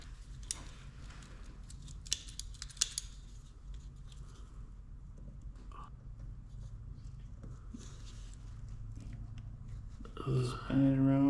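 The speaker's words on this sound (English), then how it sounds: "You gotta pull that snap ring off, and then the brake stay should come off." A snap ring is worked off the brake stay of a TRX450R with small metallic clicks and snips, faint and close, over a low background hum.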